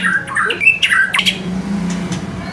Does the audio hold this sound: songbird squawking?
yes